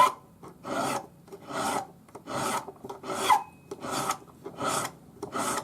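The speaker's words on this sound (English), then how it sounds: "the same thing on the inside, a nice smooth curve with the half round ring file" A half round ring file, number 2 cut, rasps across the inside curve of a jeweller's hammer charm in steady back-and-forth strokes, about eight even passes, close and clear with no talking.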